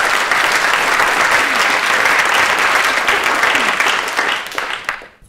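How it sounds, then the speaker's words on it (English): Loud, dense applause from an audience at an arts and culture talk, many hands clapping close and continuous before fading out over the last second. "round of applause for brave people."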